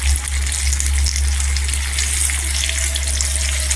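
Eggplant sizzles and fries steadily in a pan after salt goes in, a continuous close hiss over a low electrical hum.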